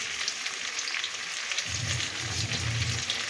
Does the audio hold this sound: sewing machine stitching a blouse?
no